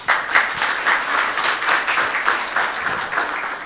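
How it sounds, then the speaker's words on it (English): Audience applause at a cryptography technical conference session for a speaker, steady mid-sized clapping sustained for a few seconds with no talking over it. "Please give him a warm applause"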